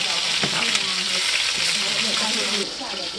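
Meat searing in a hot pan while cooking feijoada, a steady, close sizzle with light scraping and stirring touches, constant and fairly loud throughout.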